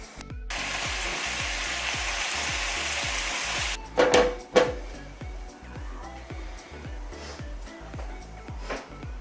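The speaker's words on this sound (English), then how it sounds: "I'm going to brown these or sear these just a bit on each side to seal the flavour in" Lamb chops sear loudly in a hot pan with a steady, dense sizzle for the first few seconds, then a few sharp clatters as they are turned and a softer continuing sizzle beneath a rhythmic low thumping.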